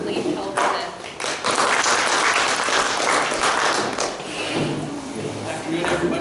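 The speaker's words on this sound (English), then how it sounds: "please give a round of applause for Leif Halvorson" Audience applause for a ranger talk speaker at the season's final Ranger Talk, a dense, steady wash of many hands clapping that swells quickly and holds loud for several seconds, with faint voices mixed in.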